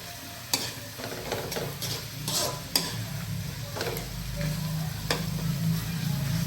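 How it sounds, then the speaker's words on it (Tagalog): Pork sizzling and frying in a pan, a steady close crackle with a few sharp clinks of a utensil stirring and scraping the meat, no voices. "Let's cook our pork thoroughly."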